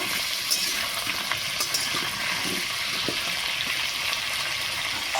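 Potatoes frying in oil in a home kitchen pan, a steady close sizzle and crackle with small pops and occasional stirring scrapes, no voices.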